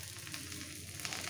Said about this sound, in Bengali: চাউ খুব সুন্দর ভাজা হয়ে গেছে, একদম ঝরঝরে